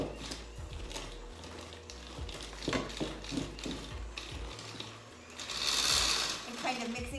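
Electric hand mixer beating banana bread batter in a bowl, a steady motor whir running close and continuous with scraping variations as the beaters work up the sides, a person speaking over it.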